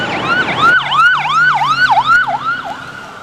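A loud emergency vehicle siren wails in quick, repeating up-and-down sweeps, close and piercing, with a lower engine hum beneath, in New York City.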